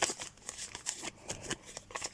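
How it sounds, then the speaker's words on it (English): A deck of cards is shuffled by hand, with rapid rhythmic riffling bursts repeating closely and crisply over about two seconds. "You can shuffle them, which again is cool."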